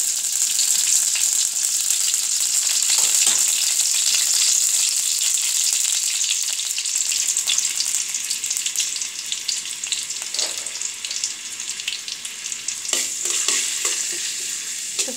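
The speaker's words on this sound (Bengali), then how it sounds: "পেঁয়াজটা ভাজা হোক" Chopped onions fry in hot oil for a lentil tempering, with a steady, loud sizzle that crackles throughout and occasional scraping stirs of a spoon in the pan.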